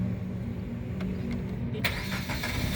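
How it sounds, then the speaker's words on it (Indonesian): A 2016 Suzuki Ertiga 1.4 GX manual car starts up: a steady low hum, then a sudden crank-like burst as the engine catches and settles into a smooth idle, close and without talk. "ini sekarang saya coba nyalakan mobil"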